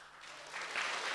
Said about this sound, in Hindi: थोड़ी तालियां मेरे लिए भी बजा लो यार, थोड़ी सी और, थोड़ी सी।